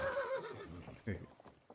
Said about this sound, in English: There's an unhappy horse.